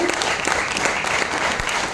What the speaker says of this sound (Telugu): అప్లాస్ ఇవ్వండి, వెల్కమ్ చెప్తూ.